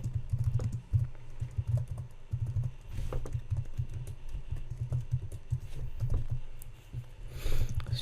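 Rapid clicking of keys on a computer keyboard, steady bursts of close, crisp taps with brief pauses between runs, no voices.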